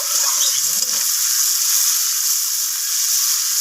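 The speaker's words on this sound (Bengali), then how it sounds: "তো লবণ আর হলুদটাকে দিয়ে আমি উচ্ছেটাকে ভালোভাবে লালচে করে ভেজে নেব" Bitter gourd pieces fry with salt and turmeric in a pan, giving a loud, continuous close-up sizzle with a steady hiss and hardly any other sound.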